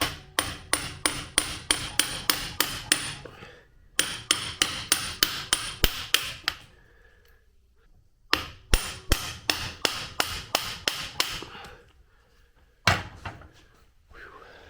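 An impact driver rattles out old screws on a seized 2004 Honda CRF 80 dirt bike, loud rapid hammering bursts in several runs separated by short pauses, close up with no talking.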